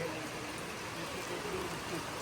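Heavy rain pours in Kolhapur near the Mahalaxmi Temple, a steady, faint, even hiss of falling water with no clear individual drops.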